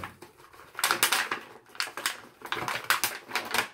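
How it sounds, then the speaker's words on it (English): Plastic laundry detergent packaging being torn open by hand, a run of loud, close crinkling and ripping bursts in quick irregular succession with no talking. "So now I gotta cut this open, and it's not easy. Then I gotta tear it open."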